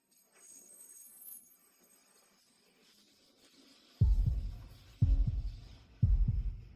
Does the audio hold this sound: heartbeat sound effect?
yes